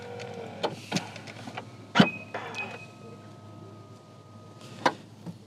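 An Audi RS 6 Avant's electric tailgate is being closed and locked: a few sharp clicks and clunks are followed by a steady motor whine, then a final latch click.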